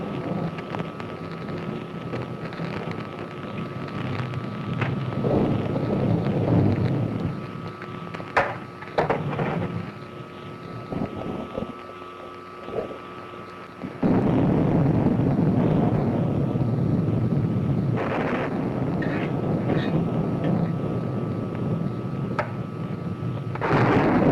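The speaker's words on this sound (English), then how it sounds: "That's the thunderstorm." A thunderstorm rumbles with low, rolling thunder and a constant stormy roar, swelling and easing over about twenty-four seconds with a few sharper cracks and a loud renewed surge midway.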